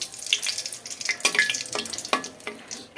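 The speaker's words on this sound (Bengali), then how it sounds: "দুইটা শুকনো মরিচ ভেজে নেব" Two dried chillies fry in hot oil, giving uneven crackling and spitting bursts mixed with a few sharp clinks, close by and moderately loud, over a short stretch with no talking.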